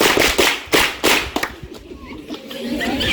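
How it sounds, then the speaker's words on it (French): Classroom students at a lycée in Zowla, Togo, burst into several loud rounds of clapping that fade into scattered claps and quiet room murmur. "Acclamez pour vous-même"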